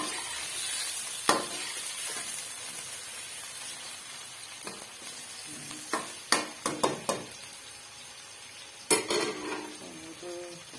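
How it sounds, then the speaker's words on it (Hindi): Chicken and onions frying together in a pan for palak gosht, a faint steady sizzle broken by sharp metallic clinks and scrapes of a spoon stirring against the pan, clustered in quick bursts. "चिकन भी साथ ही फ्राई हो जाएगा और इसके साथ ही प्याज भी हो जाएंगे।"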